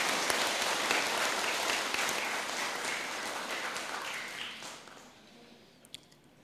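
An audience breaks into a big round of applause, loud and dense at first, then thinning and fading out toward the end with a few last scattered claps.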